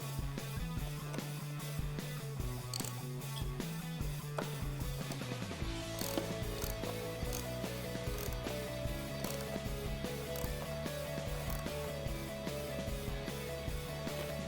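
A ratchet wrench clicks steadily as it snugs down the bolt on an LED ditch light mount on a 2021-2022 Ford Bronco. The quick, even ratcheting is close and fairly quiet, with a faint mechanical hum underneath and no talking.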